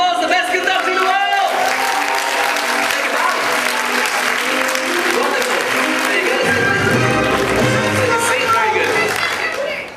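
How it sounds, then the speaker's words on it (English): A theatre audience at a stage hypnosis show in Dubai bursts into loud, sustained applause, dense clapping filling the whole stretch with music playing underneath. "Give a round of applause"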